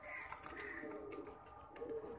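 Pigeons coo softly in a fancier's loft of finely bred pigeons, a low, steady murmur of calls that stays faint and continuous throughout, with no voices.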